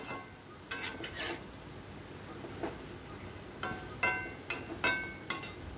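Banana flower being stirred in a frying pan for a vegetarian mochar ghonto, with soft scraping strokes and light sizzling that come in short bursts, several strokes grouped toward the end, close and moderately quiet with no talking.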